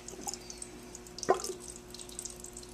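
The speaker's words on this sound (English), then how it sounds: "this is just filtered water that we're going to fill the cold reservoir with." Filtered water poured into a water cooler's cold reservoir, soft drips and trickles with one brief gurgling bubble in the middle, quiet and close.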